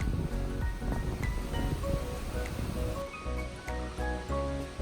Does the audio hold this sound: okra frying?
no